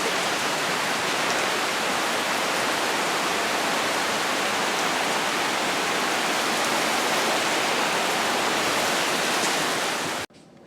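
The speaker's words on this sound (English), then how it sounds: "Where did that rain come from?" Sudden heavy rain pours down in a steady, dense broadband roar that fills almost the entire stretch alone, then cuts off abruptly near the end.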